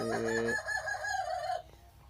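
A Kukuak Balenggek rooster crows in its long, drawn-out, multi-note style, the tone sustained and wavering for about a second and a half, then cutting off, loud and close.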